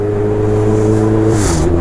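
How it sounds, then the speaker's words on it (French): An H2 motorcycle on wet city streets in Lyon, its engine droning loud and close, then dipping in pitch near the end as it shifts and pulls onward. "petite leçon de conduite en H2 dans les rues de Lyon"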